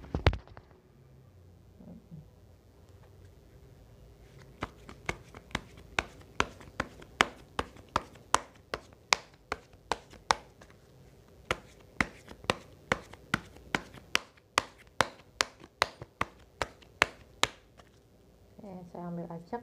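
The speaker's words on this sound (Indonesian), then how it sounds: "Saya kocok kartunya ya." A deck of playing cards is shuffled again and again during a life-coaching session, giving a long run of sharp, evenly spaced riffling snaps up close, with a few soft handling sounds at the start and end and no talking.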